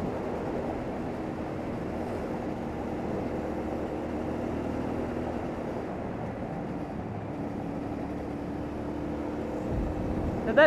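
A CFMoto 450MT motorcycle cruises in fifth gear, giving a steady, fairly quiet engine drone with wind rush that holds even and continuous, with no talk over it.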